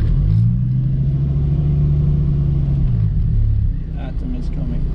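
A Dodge Viper SRT engine rumbles deep and steady as the car rolls out of the pit lane at Bovingdon Airfield, heard from inside the cabin and easing off near the end.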